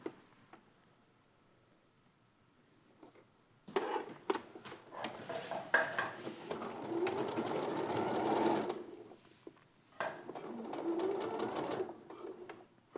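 A sewing machine runs in two steady bursts of stitching, close and moderately loud, separated by a short pause, with a few light mechanical clicks before it starts.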